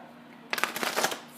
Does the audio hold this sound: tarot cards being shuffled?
yes